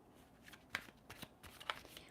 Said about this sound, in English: let me put these back because I always shuffle 3 times.